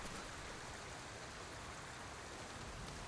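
Waterfall in Ghost of Tsushima, a dense steady rushing hiss of falling water filling the scene, constant and fairly soft, with no voices.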